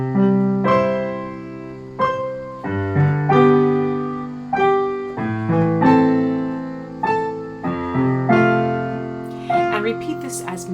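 Piano chords with a jumping left-hand pattern that adds octaves, bass notes striking in a steady alternating rhythm under right-hand chords, clear and close with no talking.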